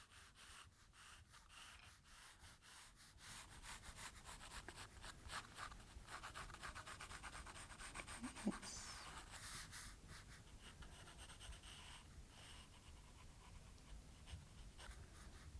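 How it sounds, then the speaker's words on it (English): A pencil lightly sketches an apple's outline on paper, producing a faint, steady scratching with short strokes at low volume and no voices. "To begin with, we're going to draw the apple's shape. So I'm going to do a light sketch,"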